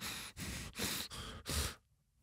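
A voice imitates quick, heavy breaths, four short forceful huffs in a row, close up, then quiet.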